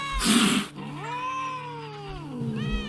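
Cats in the video game The Witcher yowl and meow, a drawn-out caterwauling cry followed by shorter meows, close and clear after a brief burst of noise.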